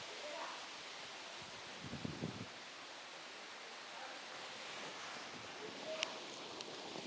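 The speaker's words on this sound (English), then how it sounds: "It's quite a windy day today." Wind blows outdoors at Parmarth Niketan in Rishikesh during a morning yoga session, a faint, steady broadband rush with soft rustling gusts.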